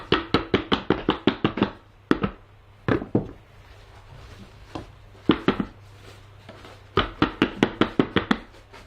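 Firework shell composition being tapped down by hand in a Japanese fireworks workshop, heard as bursts of quick, sharp, close taps in clustered runs separated by short pauses.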